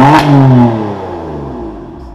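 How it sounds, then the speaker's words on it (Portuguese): A BMW M3 in Grigio Telesto with an Akrapovič exhaust gives one loud, close rev. The sharp blip climbs, then the engine note falls away and settles back toward idle. "Vamos lá curtir o ronco aqui agora."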